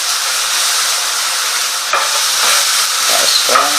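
A white wine reduction is poured and stirred into a hot pan for creamy honey mustard chicken, giving a steady broad hiss and sizzle with a few soft scraping strokes near the end, close and without talk.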